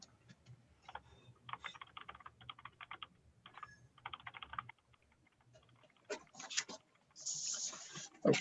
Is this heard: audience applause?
no